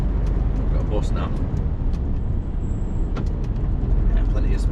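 A bus passing on a narrow country road, heard from inside a delivery vehicle as a broad, steady rumble of engine and road noise that swells slightly toward the end, with a brief faint hiss; talk is mixed in.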